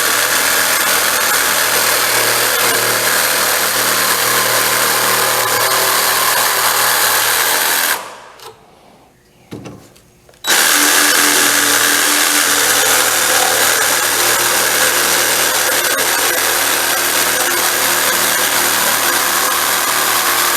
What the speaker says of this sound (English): Then I'll cut the remainder out here with the jigsaw.